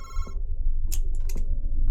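A phone rings in the horror video game MADiSON, short repeated electronic trill bursts standing out clearly above a low droning room ambience, with no voices present.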